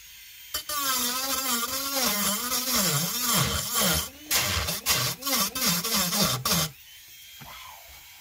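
A handheld rotary tool fitted with a Kutzall carving burr whines as it grinds into wood, steady motor pitch dipping and rising under load, then bursts of cutting in short pulses before stopping.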